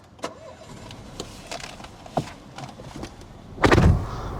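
Peugeot 208 GT engine starting, a short loud burst of cranking and catching near the end after quiet cabin clicks and small knocks.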